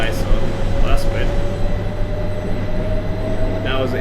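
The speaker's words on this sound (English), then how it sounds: "That was an invisible train." A passing train in Train Simulator 2018 gives a loud, steady rolling rumble with a constant low drone throughout, and faint voices come and go over it.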